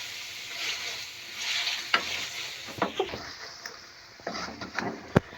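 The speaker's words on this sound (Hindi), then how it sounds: "अब हम इसमें डालेंगे पालक। अच्छी तरह से मिक्स करेंगे।" Spinach being stirred into a sizzling chicken or meat curry in a pot, with a continuous frying hiss under scraping spoon strokes and a few sharp knocks against the pot.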